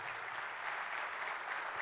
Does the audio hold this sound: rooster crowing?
no